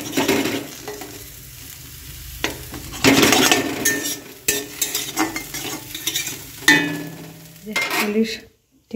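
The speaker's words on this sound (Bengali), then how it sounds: "বাটার দিয়ে একটু আলুটা ভাজছি" Potatoes fry in butter in a pan over a wood-fired stove, with steady sizzling broken by scraping stirs and clinks of a utensil against the pan.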